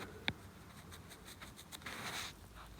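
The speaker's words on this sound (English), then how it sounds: "excuse my messy handwriting" A pen scratches across paper in short, faint strokes, with one sharp tap near the start and a brief burst of denser scribbling later, close and quiet.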